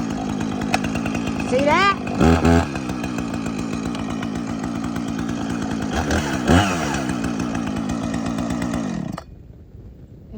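A chainsaw runs close and loud, its engine surging in a few revving bursts over a steady rasping idle, then cutting off abruptly as the chain brake is engaged; someone speaks briefly over it.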